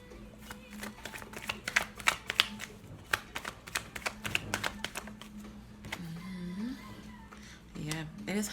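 Rapid, soft riffle and tap of tarot cards being shuffled close by, a dense run of crisp flicks followed by a few slower card draws, with a voice speaking over parts of it.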